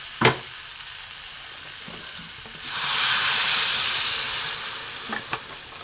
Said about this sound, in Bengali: এবার আমি অল্প করে এতে জল দিয়ে দেবো